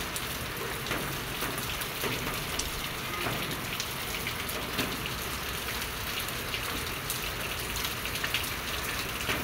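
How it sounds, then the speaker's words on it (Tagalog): Heavy rain pours down steadily, a dense hiss of drops with sharper spatters on nearby surfaces, continuous and fairly loud with no talking. "Ang lakas na ng ulan."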